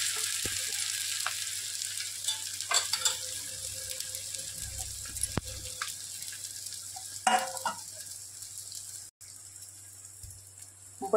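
Sabudana khichdi sizzling and frying in a pan while being stirred, a steady close hiss with scraping stirs and occasional clatter, no voices.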